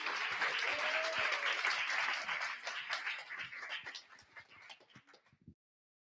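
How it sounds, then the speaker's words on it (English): Audience applause at a Python programming meetup fills the room, dense clapping that holds for about two seconds, then thins to scattered claps and dies out, with faint voices underneath. "So for now, please, I would need a big round of applause for Andre."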